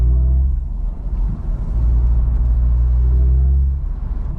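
MG Cyberster electric sports car playing its artificial engine sound, a loud low synthetic rumble with tonal hum that swells and eases like revving, steady throughout with no talk.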